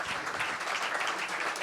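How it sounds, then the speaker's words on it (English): A brief burst of audience applause at a live rugby podcast recording in a pub, many hands clapping in a dense steady wash for under two seconds. "Please, a round of applause for our Anglified..."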